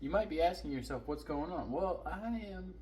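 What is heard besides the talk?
None of the usual background noises is heard.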